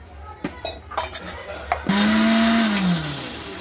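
After a few clinks and taps of kitchenware, a mixer grinder blending gram flour, curd and water starts up and whirs loudly and steadily, its motor pitch dipping slightly as it runs.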